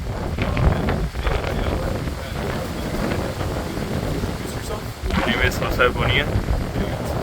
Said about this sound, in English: Please excuse the wind.